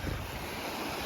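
Waves wash steadily against the seashore where children are fishing, a continuous broadband surf roar mixed with wind buffeting the microphone, close and constant with no voices.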